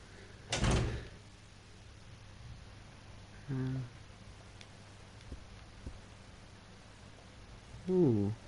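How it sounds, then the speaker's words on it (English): In the video game Resident Evil Zero, a door opens with a short clunk, followed by a second mechanical creak a few seconds later and another brief creaking sweep near the end, over a quiet ambient hum. "Let's go in the first door."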